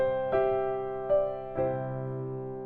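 Piano playing a short pop fill in 6/8 time: three struck chords in sequence, the last one ringing out and sustaining, clear and close with no talking.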